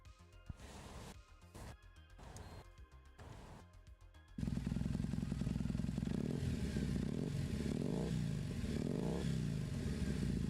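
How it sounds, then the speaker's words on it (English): A simulated Triumph Thruxton 900 motorcycle engine in Engine Sim bursts in loud after a few seconds of choppy, stuttering sound, then roars steadily with rough harmonic buzz and several rises and dips in revs. "So let's hear what Thruxton 900 sounds like real quickly here."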